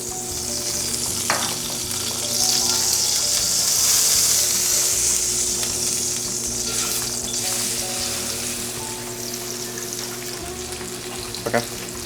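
Salmon fillet frying in a hot pan, a loud, continuous close crackle and sizzle with a few sharper pops and clinks scattered through, and no talking.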